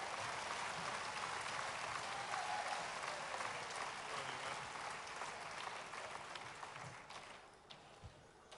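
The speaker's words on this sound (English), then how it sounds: "Give them all a round of applause." Audience applause at a Golden Shears open shearing competition, a sustained dense clapping from a large crowd that stays steady and then slowly thins and fades toward the end, with no talk over it.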